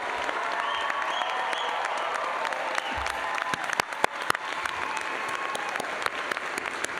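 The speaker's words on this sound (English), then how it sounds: "Let's give them a big round of applause." Sustained audience applause fills a veterinary medicine college commencement ceremony, dense steady clapping throughout with a few sharper close claps standing out, no talk over it.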